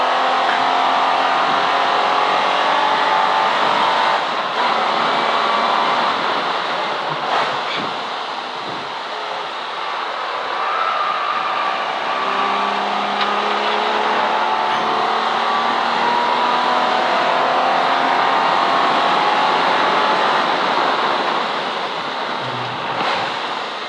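V12 race car lapping Silverstone circuit in a CSCC Modern & Future Classics race, a continuous engine howl with rising and falling pitch sweeps under steady wind rush, no voices.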